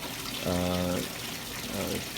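Water bubbles and gurgles over a homemade Pepsi bottle fluid bed sluice, a low running wash with two short tonal burbling bursts, fairly quiet and close.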